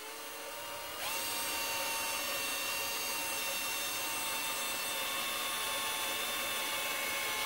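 A power drill bores the last fastener hole in a sandblasting cabinet build. After a quiet second it spins up with a steady, bright, close whine that holds evenly until the end.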